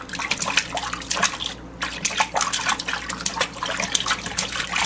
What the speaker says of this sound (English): the water's draining. It's that noise.